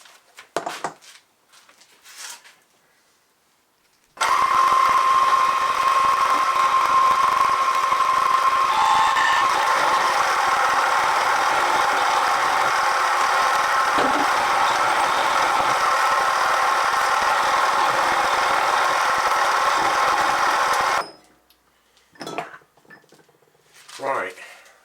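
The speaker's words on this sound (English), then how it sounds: "so I can mill down to the scribe line" Milling machine cutting down a steel crankshaft balance weight to a scribed line, a steady loud broadband machining roar that runs for about seventeen seconds with a faint whine early on, bracketed by quiet shop noises before and after.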